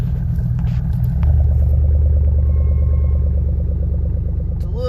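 Chevrolet Silverado pickup idling just after a smoky cold start on a freezing morning around 8 degrees: a close, steady, deep engine rumble that settles into an even idle after the first second.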